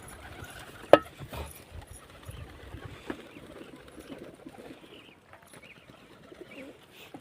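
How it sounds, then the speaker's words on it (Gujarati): Pigeons coo softly on a roof, faint low calls repeating amid a quiet background with a few small knocks and bumps. "જો કબૂતર તૂટી પડ્યા છે"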